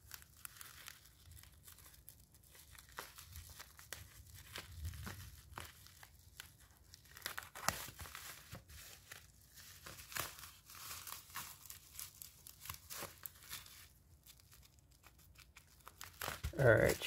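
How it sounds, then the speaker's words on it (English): Crinkling and tearing of plastic shrink-wrap as a boxed game's packaging is cut open, close and fairly quiet, with irregular rustles throughout and a louder burst of crackling at the end. "trying to cut this open without destroying the game"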